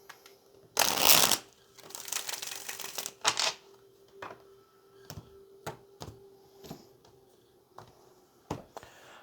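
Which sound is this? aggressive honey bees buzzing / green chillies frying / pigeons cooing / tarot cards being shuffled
tarot cards being shuffled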